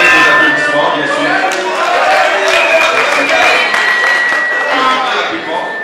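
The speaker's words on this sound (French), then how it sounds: "Avec des applaudissements, bien sûr." Applause from an audience of deputies at a formal address, a steady dense wash of clapping lasting several seconds with faint murmur beneath.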